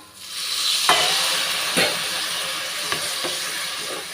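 A loud, continuous sizzle and hiss from a hot pan of sautéed ingredients for pea curry, with a few sharp crackling bursts as water hits the oil and stirring scrapes.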